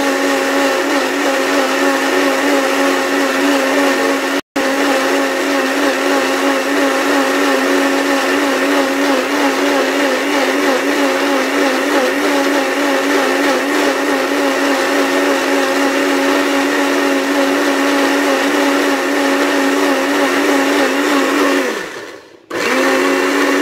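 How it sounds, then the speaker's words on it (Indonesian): An electric blender runs steadily and loudly while blending red ginger and lemongrass, a continuous whirring motor tone with one brief cut near the start and a winding down near the end, no talking. "Jadi hasil dari blenderan jahe merah dan serai kita masukkan ke sini teman-teman"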